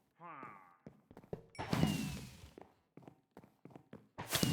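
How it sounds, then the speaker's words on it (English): In the Minecraft video game, a sudden loud blast with a rumbling tail bursts out, then a second burst follows near the end, among scattered footsteps and thuds and short vocal sounds. "What the hell exploded?"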